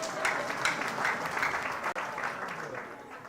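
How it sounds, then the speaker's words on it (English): An audience at a Lira University orientation ceremony applauds in a dense, steady clatter of many hands, moderately loud and sustained for a few seconds without a break. "Let's clap for God."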